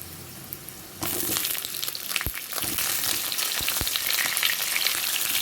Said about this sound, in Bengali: আলুগুলোকে ভালো করে ভাজা করে নেব